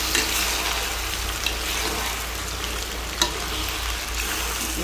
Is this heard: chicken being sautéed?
yes